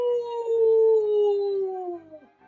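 A human voice imitates a spooky ghost's howl, one long drawn-out wavering 'ooo' that holds steady, then slides downward and fades away at the end, with no other talking.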